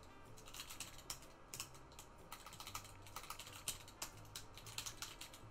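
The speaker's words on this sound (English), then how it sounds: "If I can type, can I type?" Quick, steady typing on a computer keyboard while setting up a game of The Sims 4, a run of close, crisp key clicks with irregular bursts and no talk.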